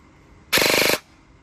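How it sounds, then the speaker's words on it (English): Half-second burst of an airsoft gun dry firing on a 7.4V 1500 mAh 50C Ovonic battery, a rapid mechanical rattle of shots, loud and close, alone against quiet background. "You can just dry fire it a little bit."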